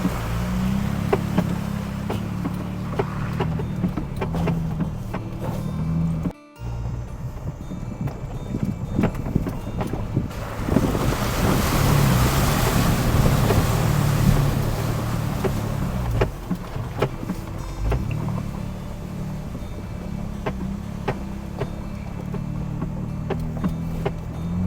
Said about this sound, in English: Here we have another little water crossing on Charlie's Creek